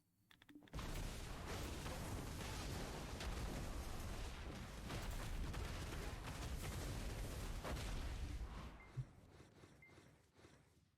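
Striker awakening PvP combo in Black Desert Online: a dense barrage of explosive impacts, booms and hits fills nearly ten seconds, loud and continuous with sharp cracks, then ends in a lone thud.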